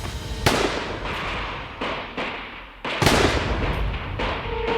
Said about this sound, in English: threw grenades and fired machine guns at the garrison